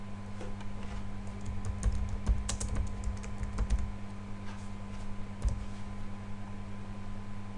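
Irregular clicks of fingers typing on a computer keyboard, fairly close and modest in level, over a steady low electrical hum.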